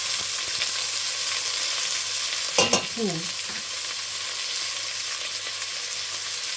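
A pan of salmon with garlic, ginger, onion and black pepper sizzles steadily while a spoon scrapes through it in a brief stirring burst, close and alone with no talk.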